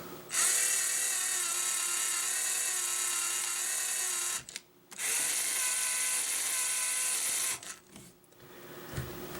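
Small motor of a Lego elevator running in manual mode, a close high-pitched electric whine in two long bursts with a short break between them, then stopping near the end.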